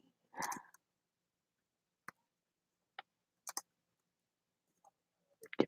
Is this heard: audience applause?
no